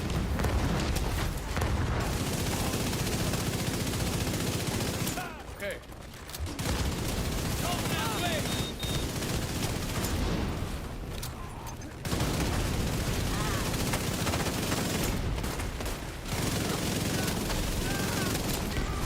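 A minigun fires against enemies in The Division, sustained loud streams of rapid gunfire broken by a few short pauses across a long stretch. Explosive booms mix in and a voice talks over it.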